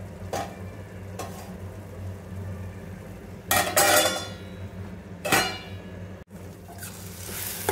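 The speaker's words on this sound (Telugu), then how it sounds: "ఇలా టొమాటోస్ అన్నీ మగ్గేంత వరకు మనం ఫ్రై చేసుకోవాలి." Tomatoes fry in a pan with a continuous low sizzle, punctuated by a few louder stirring bursts and scrapes a couple of seconds apart, heard close with no talk.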